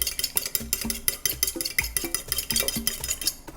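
A fork or whisk beats a cracked egg in a small dish with quick, rhythmic clinks and taps, close and even, with no voices.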